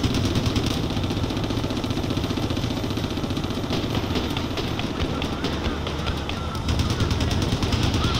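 Video game gunfire from vehicle-mounted guns, a continuous rapid rattling burst layered over a droning engine, loud and close, with in-game voice callouts mixed in.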